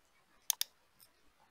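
Two quick, crisp mouse clicks close together, followed by a fainter click, made while drawing lines in AutoCAD, with no voices over them.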